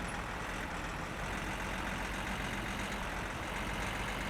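Car engine in the Finnish driving game My Summer Car, a steady low droning rumble that runs unbroken the whole time at constant loudness, with no talking.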